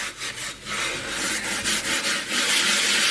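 A cast iron griddle gets a quick scrub before seasoning: steady, close, abrasive rubbing strokes that rasp continuously with slight rhythmic swells, loud and alone with no talking.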